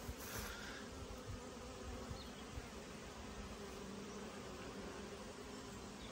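Honeybees flying into the hive entrance carrying ivy pollen, making a dense, continuous buzzing hum, close and steady but fairly quiet.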